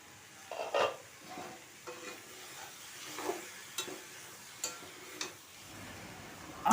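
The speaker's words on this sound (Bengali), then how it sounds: "পটল আলু চিংড়ি মাছকে মিশিয়ে আমি আরও দু মিনিট রান্না করে নেব" Pointed gourd, potato and shrimp frying and being stirred together, a faint low sizzle with a series of light spoon taps and scrapes against the pan spaced through the clip, quiet and close, no voices.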